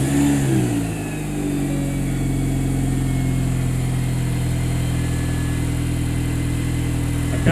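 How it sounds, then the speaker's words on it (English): A MINI R53 Cooper S engine fires up and runs steadily at idle for several seconds, a close, continuous low hum with strong harmonics, with no shutdown audible before the end. "I'll get you to run the engine quickly and then stop it straight away"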